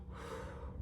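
A voice imitates heavy panting and heaving after a run, a single short, breathy gasp filling the moment with no words.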